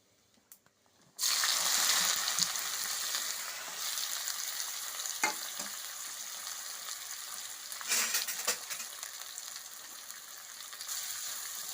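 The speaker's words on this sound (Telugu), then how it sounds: "ఇప్పుడు దీంట్లోకి తరిగి పెట్టుకున్న ఆనియన్స్ వేస్తున్నానండి" After a moment of near silence, chopped onions drop into hot butter and oil already seasoned with cumin seeds. A loud, dense frying hiss follows, with occasional stirring scrapes and clinks, and no one speaks.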